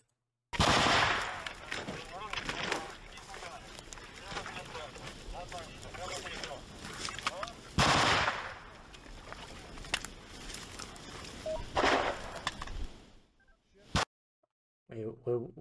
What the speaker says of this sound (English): regardless, even if there's shots being fired